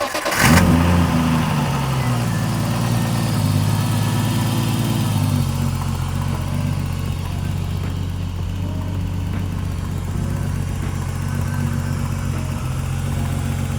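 A 700hp turbocharged BMW E36 fires up with a sharp start, then settles into a steady, loud idle with a low rumbling drone, heard close and without talking.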